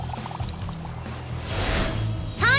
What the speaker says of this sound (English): Now wet the sand with water.